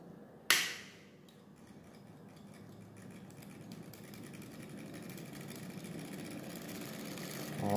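A homemade brushless DC motor on a 230 V controller starts after a sharp click, then gives a steady mechanical whir that slowly builds in strength and stays moderately loud and close, with no talk.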